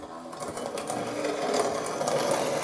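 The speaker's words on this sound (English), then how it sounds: "I'll just start grinding now" A hand-operated mill grinds parched corn with a steady, continuous rasping and crunching that swells slightly and holds close and fairly loud, without a voice.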